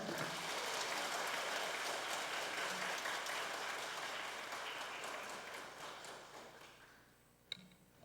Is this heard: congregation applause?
yes